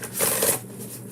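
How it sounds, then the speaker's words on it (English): Tarot cards being shuffled, a short papery riffle and flutter building to a brief loud burst, then fading to quiet, close by with no talking. "Okay, one more shuffle."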